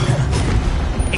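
Incendio fire spell cast in a video game, heard as a loud, dense whooshing burst of fiery roar that fills about a second without a break.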